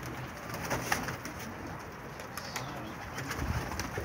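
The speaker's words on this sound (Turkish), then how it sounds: "Kuşlar kümese giriyor hepsi." Pigeons coo softly in low, murmuring calls against a steady outdoor background, with a few louder coos standing out.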